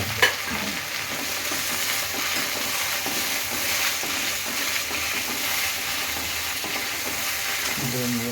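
Gongura leaves frying in oil give a steady, loud sizzle with stirring scrapes throughout, and no one speaks.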